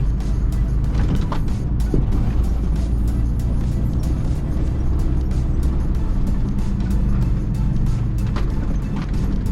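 Car driving and turning on a road to a mine, a steady loud engine and road rumble filling the interior with occasional clicks and knocks, no pause throughout.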